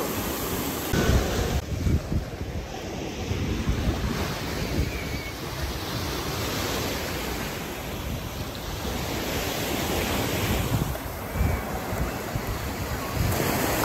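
Sea waves surge and crash onto a pebbly shore of colourful stones at Coral Island near Pattaya, Thailand, a loud continuous wash with heavy wind buffeting the microphone and no voices.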